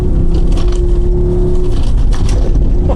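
Mercedes-AMG four-wheel-drive performance car, a G63 or GLC63 4Matic+ Coupe, driving hard over an off-road surface, with a loud, steady engine drone close by and gravel and bumps crunching beneath.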